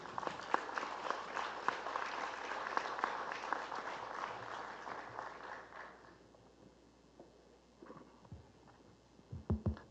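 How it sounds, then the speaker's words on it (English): Scattered audience clapping at a corporate event builds into a round of applause for about six seconds, then thins out into room noise with a few low thumps near the end. "let's give a round of applause for Dante Clink Ang II."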